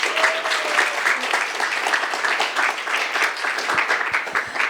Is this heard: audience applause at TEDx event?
yes